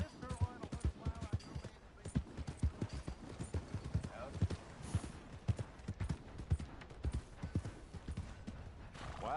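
Horse hooves clip-clop in steady rhythmic beats in the Red Dead Redemption 2 game, fairly close, with a brief whinny partway through and a voice talking underneath.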